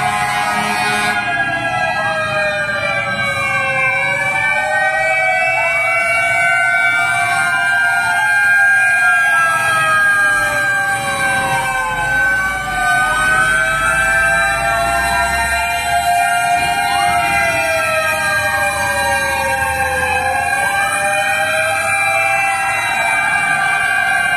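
Several fire truck sirens wail at once at a large fire in Tramo, Pasay City, their overlapping rising and falling tones continuous and loud, with engine rumble beneath.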